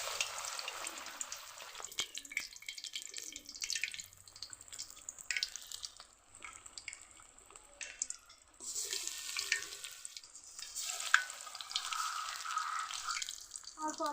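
Onion and boiled potato snack pieces dipped in batter crackle and hiss steadily in hot oil, a bright continuous sizzle with small pops, rising louder toward the end, no talking.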